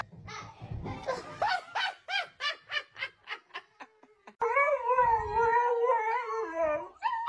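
Dog howling in a run of rising, pulsing yips that open into a long sustained wail, fairly close and loud, with no talk over it.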